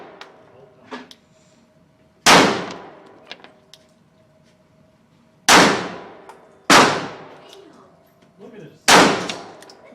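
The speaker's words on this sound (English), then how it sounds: "Alright, 5 slow fire shots, now for the rapid shots." Smith & Wesson SD9 VE pistol fired slowly at an outdoor range, four loud sharp shots spaced a second or more apart, each with a ringing decay, with faint low murmuring between them.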